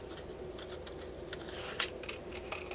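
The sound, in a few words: scissors cutting paper along curved edges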